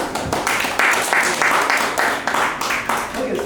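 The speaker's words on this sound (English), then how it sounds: "Let's all clap for her." An audience at a LinkedIn masterclass claps in uneven bursts that rise and fall over a few seconds, while a voice keeps talking over it.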